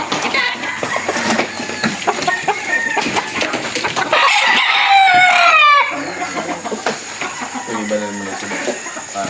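Gamecock stags and pullets at a game farm crow and cluck close by, with a long rooster crow in the middle over a busy backdrop of overlapping bird calls and scattered clucking.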